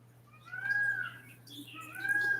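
A pet cat meows for attention indoors, two drawn-out mid-pitched calls about a second apart over a steady low hum, fairly faint and with no talk.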